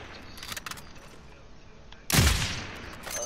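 Gunfire from Call of Duty: Modern Warfare: after a quiet stretch with a few faint clicks, a loud burst of shots erupts up close and fades quickly.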